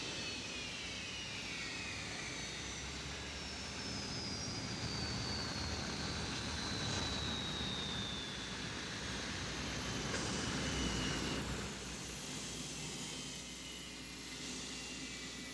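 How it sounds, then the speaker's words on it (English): A C-5 military transport jet roars steadily in the distance as it takes off, its engine noise swelling slowly and holding a broad, rumbling drone with a faint high whine. "Due to the C-5's huge size, it seems to take off in slow motion."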